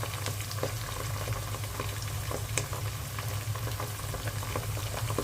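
Ginger-garlic paste and ground spices frying in a pan for a beef curry with chana dal, giving a steady, dense sizzle with scattered crackles throughout, close and continuous with no talk.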